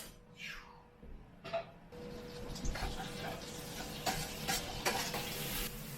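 Mushrooms frying in a heap of butter in a pan for a home-made breakfast fry-up, a steady close sizzle with scraping stirs and a few clinks, no voices.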